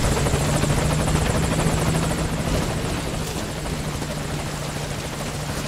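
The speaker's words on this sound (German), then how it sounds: "Die da hinten kriegen auch gar nichts mit, dass hier ein Helikopter ist." A helicopter in the video game Metal Gear Solid V: Ground Zeroes thrums steadily and loudly throughout, a constant close rotor roar that eases slightly toward the end, with no voices.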